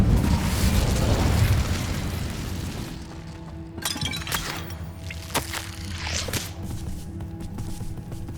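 Incendio fire spell cast in Hogwarts Legacy: a loud roaring, crackling burst of flame that fades over a few seconds, followed by sharper pops and crackles over a low game ambience.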